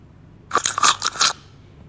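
A monster in the Poppy Playtime video game bites the player: a brief, loud, crunching chomp made of a few quick wet snaps lasting under a second, with no talk.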